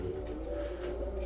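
Pet pigeons coo softly and steadily in close range, a low continuous murmur of overlapping calls with no talk.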